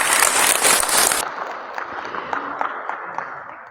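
A class of students claps together in a burst of applause for just over a second, then it cuts off into quieter scattered room sound with faint voices.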